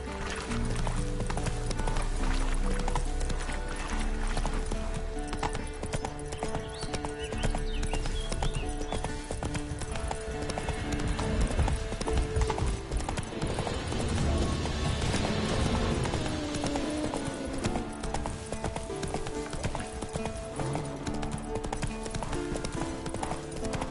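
Roach the horse galloping in The Witcher 3, rapid continuous hoofbeats under a dense layer of game music and ambience, loud and sustained throughout.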